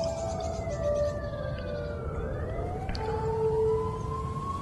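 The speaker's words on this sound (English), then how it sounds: "to sirens from an ambulance" An ambulance siren wails and sweeps up and down in pitch over a dense, steady roar of traffic, sounding moderately distant and with no voices.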